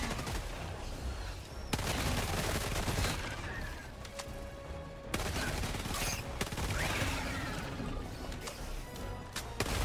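Sustained machine pistol fire in the video game Helldivers 2, continuous loud rattling bursts with heavy crashes and impacts throughout, no voices.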